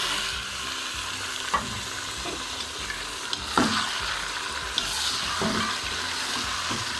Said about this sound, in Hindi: ये हमारे प्याज जो हैं ये गोल्डन हो चुके हैं। तो इसके अंदर अब हम डाल रहे हैं चिकन।